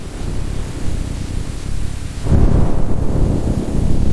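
Steady rain pours on a rainy night, and about halfway through a deep roll of thunder swells in, leaving a heavier rumbling wash that continues to the end.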